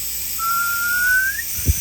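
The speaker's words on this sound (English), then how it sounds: "And it's going to whistle." A thin whistle of air escaping a Toyota 4Runner tire valve stem rises and holds for about a second over a steady hiss, ending with a soft knock.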